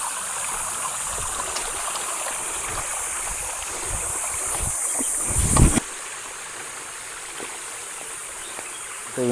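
A forest stream running fast downhill, a steady close hiss and rush of water with a brief louder splash midway and insects chirping faintly underneath.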